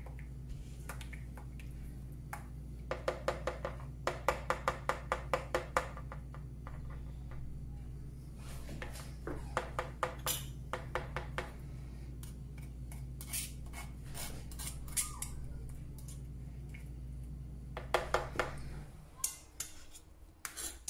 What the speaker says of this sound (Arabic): غادي ناخذ مصفات ونصفي داك الخليط باش ما يبقاش فيه تكتلات